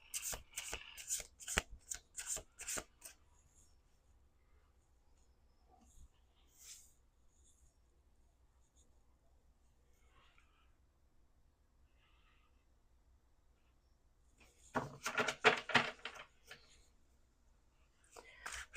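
A deck of tarot cards is shuffled in two crisp bursts of riffling, the first at the start and the second near the end, with a long quiet stretch and faint whispering between them.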